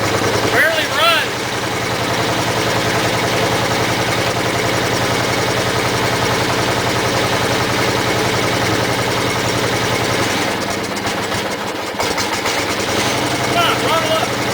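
The small engine of a CrapsMan GT18 garden tractor barely runs, sputtering with a steady uneven chug and rough putter at close range, with people talking over it.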